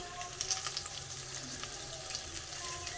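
Eggplant frying in oil on a stove at full flame, a steady soft sizzle with faint crackles and no speech, at low volume.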